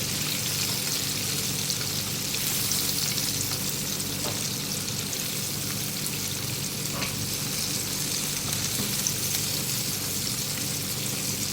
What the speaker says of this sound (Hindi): ये फ्राई हो गई है, मैं इसको निकाल लूँगी।